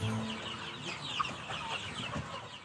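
Free-range farm chickens raised outdoors cluck softly and steadily at close range, a busy low murmur of several birds with no talk over it.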